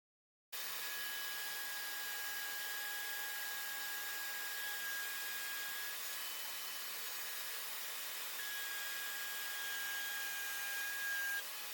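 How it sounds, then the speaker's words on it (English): Woodworking router fitted with a straight bit cutting a groove in wood, with no dust collection: a steady, loud high-pitched whine running continuously with a sustained tone throughout, no voices. "I'm just going to run it through once, which is a straight bit, cutting a groove out as I would do normally"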